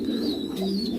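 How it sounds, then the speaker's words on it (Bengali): A large Lahori pigeon gives a soft, low cooing call close by, a short rolling coo over a faint background hum. "বিগ সাইজের একটা লাহোরি কবুতর"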